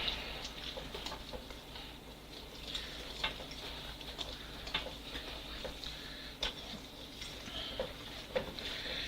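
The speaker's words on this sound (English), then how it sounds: "Alright, we're gonna start whisking." Cookie batter with chocolate chips is whisked by hand, giving faint, rapid ticking taps in an irregular rhythm over a low background hum.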